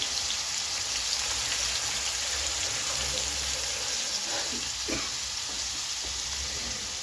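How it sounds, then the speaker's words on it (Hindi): Water poured into a hot pan of chicken with yogurt and spices crackles and sizzles in a steady, soft hiss, with a few sharper pops near the end. "थोड़ा पानी डाल देंगे।"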